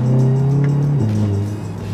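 A modified Volkswagen GTI with an aftermarket intake and exhaust drones loudly and close, its engine note holding steady and then dropping in pitch as the revs fall, with no talk.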